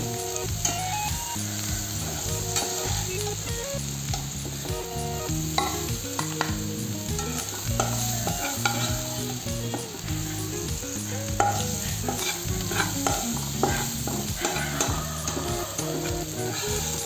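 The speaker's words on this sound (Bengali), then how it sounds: "মাছ আমার ভাজা হয়ে গেছে, এখন আমি মাছগুলোকে নামিয়ে নেব।" Loud, continuous sizzling of mackerel-type fish frying in a wok, a dense crackling hiss with steady popping and occasional clinks of a utensil throughout.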